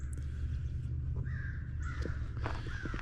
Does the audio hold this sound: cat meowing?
no